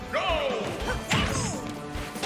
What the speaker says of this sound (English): Bro ran up and up smashed.